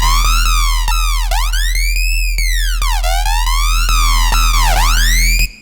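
A harsh, distorted dubstep synth bass tone sweeps up and down in pitch in repeated swooping arcs, steady and loud, like a wailing siren, ending abruptly.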